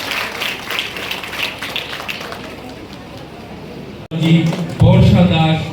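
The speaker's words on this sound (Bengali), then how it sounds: "সবার কাছ থেকে জোরে করতালি চাই।" A school award ceremony audience claps in a dense, fairly distant patter for several seconds, fading off before a voice starts speaking loudly over a microphone.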